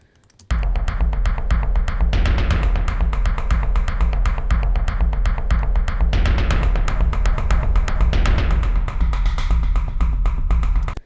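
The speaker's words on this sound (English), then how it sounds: "if I just take a look at the actual drum pattern I've written here" A dense electronic drum pattern from the Omnisphere Bob Moog Tribute Library plays steadily, with rapid repeated hits and deep booming low end driving a fast, relentless rhythm.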